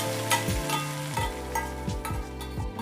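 Sweet rice pachoru being poured into a pot and stirred, with repeated rhythmic scraping strokes of a spoon against the pan over a low sizzling bed, close and fairly loud, no talk.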